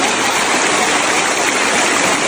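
A waterfall on a river at a campsite roars close by in a loud, continuous rush of falling water, with no other sounds breaking through.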